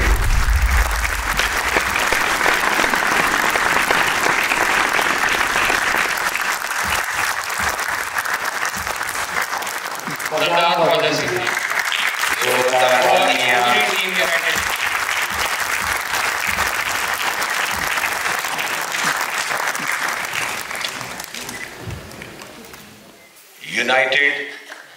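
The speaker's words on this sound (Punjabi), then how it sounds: "ਜ਼ੋਰਦਾਰ ਤਾਲੀਆਂ ਆਪਕੀ ਤਰਫ ਸੇ ਬਜਤੀ ਰਹਿਣੀ ਚਾਹੀਏ" Audience applause at a Sikh arts and film festival stage event, a steady sustained crowd clapping that runs through most of the stretch, with a speaker's voice audible over it in the middle and a brief louder burst at the end.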